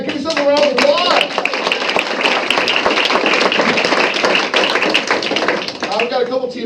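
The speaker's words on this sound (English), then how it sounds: "Give yourself a round of applause." Small improv night audience clapping for itself, a brisk burst of many hands close by that holds steady for several seconds, with talking and shouts layered over it.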